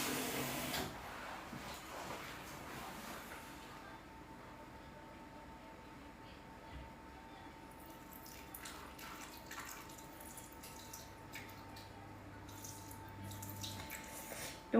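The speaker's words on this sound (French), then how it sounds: "Et ensuite, je vais ajouter de l'eau." Water being poured into a Thermomix TM7 while making a lemon meringue tart, a steady faint trickle over a continuous machine hum, with a few light clicks and drips later on.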